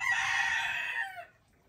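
A cockerel crows once, a loud drawn-out call that trails off after just over a second, with no other sound around it.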